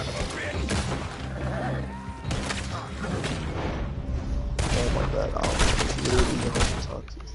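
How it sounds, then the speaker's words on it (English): Red Dead Redemption gunfire in a PS4 Pro multiplayer match, with repeated loud shots and booms in bursts over a dense game mix. Voices talk throughout. "Now he's shooting at me."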